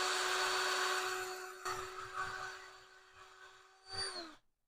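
A Ryobi lathe whines with a steady high tone while a file bores out the center of a spinning part, the rasping contact swelling in bursts before the motor spins down and stops.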